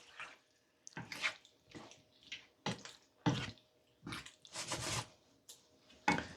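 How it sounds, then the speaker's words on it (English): Water from a tomato can splashing into a curry in bursts, a series of close sloshing pours and drips with short pauses between them. "So I will also add half a can of water from the tomatoes."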